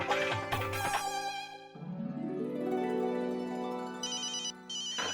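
A telephone rings indoors in a household sitcom scene with a loud, melodic electronic ringtone that plays continuously through a sweeping, rising phrase into bright repeating notes, with no talking over it.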